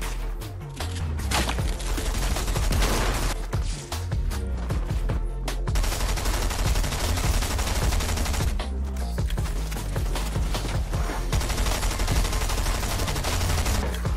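Dense, continuous gunfire from Fortnite, with repeated rapid shots and bursts filling the whole stretch at close, loud range, nearly without pause.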